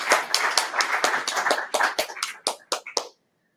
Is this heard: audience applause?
yes